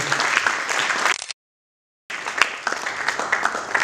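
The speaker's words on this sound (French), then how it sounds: "Est-ce qu'on peut applaudir pour l'artiste, mesdames et messieurs?" Audience applause for an artist at an award ceremony, a dense crowd of clapping hands broken by a brief silent gap before resuming at full strength.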